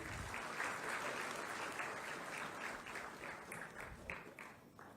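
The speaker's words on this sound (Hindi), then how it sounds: "आप सभी की तालियों में ऊर्जा की थोड़ी कमी है" A large crowd applauds at a public event with Uttar Pradesh's chief minister, a dense wash of clapping that holds steady and a little distant before thinning into a few separate claps near the end.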